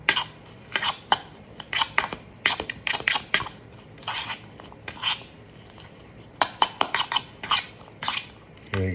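Chipotle carne asada meat being mixed in a bowl, with quick, irregular bursts of scraping and clinking as a utensil works through the meat, close by with brief pauses between strokes.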